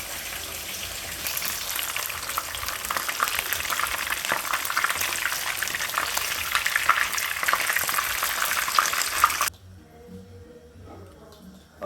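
Tilapia fish fry in hot oil with a loud, dense crackling sizzle, close up and continuous for several seconds, then stopping suddenly to near quiet.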